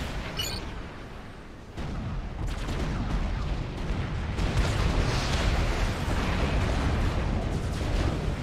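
Units in Forged Alliance Forever fire on a naval yard, a dense rumbling barrage of shots and explosions that swells and stays loud and continuous throughout, with no talk.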